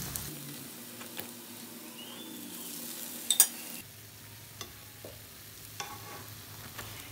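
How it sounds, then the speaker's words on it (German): Cornmeal bread frying in a pan, a steady soft sizzle with scattered stirring clicks and a brief louder clatter midway, after which the frying noise drops lower and quieter. "Jetzt werde ich die andere Seite braten lassen."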